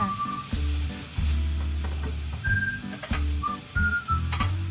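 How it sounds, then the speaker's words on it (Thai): Pork stir-fries in a pan until the liquid cooks off for southern Thai khua kling with curry paste: steady sizzling and stirring over a low rumbling hum, with a few brief whistle-like tones. "ผัดไปเรื่อยๆจนน้ำแห้งค่ะ"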